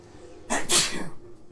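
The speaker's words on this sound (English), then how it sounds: "I always get concerned when I sneeze like that and I just hear a loud crack." A single loud, close sneeze, sharp and explosive, bursting out of near silence and trailing off within about a second.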